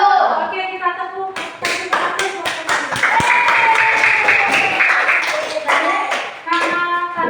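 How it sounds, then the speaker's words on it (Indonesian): A classroom of students claps hands in a rhythmic series of sharp, close claps, with children's voices before and after and a chant running through the middle. "Oke, kita tepuk."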